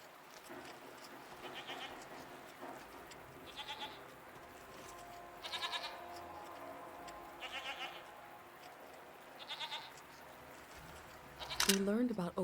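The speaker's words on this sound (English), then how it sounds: "What are these strange goat-like creatures? Are they simply goats?" Goat-like creatures bleat in the game SEASON: A letter to the future, with repeated short bleats coming about every two seconds over a soft ambient backdrop and a brief sharper sound at the end.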